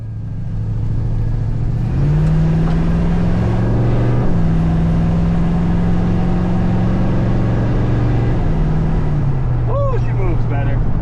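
A 1979 Chevrolet El Camino accelerates at half throttle, its steady engine drone rising through shifts, heard from inside the car with talk over it.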